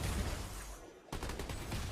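Rapid video-game gunfire from a hero character: a dense stream of shots, briefly pausing, then resuming in quick continuous bursts at moderate loudness.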